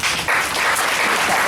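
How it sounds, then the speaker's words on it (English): Students in a lecture clap together in a steady, continuous burst of applause that holds at full strength throughout the short moment. "Very good. Give a clap."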